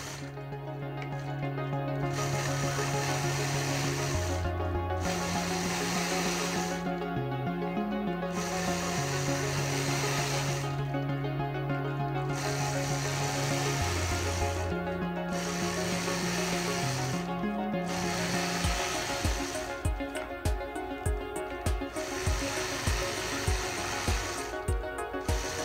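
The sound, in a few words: sewing machine stitching in the ditch on a quilt block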